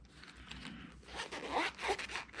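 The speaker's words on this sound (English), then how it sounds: "Not the smoothest zipper on earth." The zipper on a leather-covered hard shell headphone case being dragged open in short, rough, uneven pulls, close and fairly loud, growing stronger toward the end.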